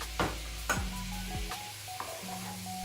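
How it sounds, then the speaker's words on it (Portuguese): Tomato going into a hot pan after cachaça, a few sharp clatters and stirring knocks over a steady sizzle and fry, close by, with no talking. "Então esse é o momento de colocar o tomate."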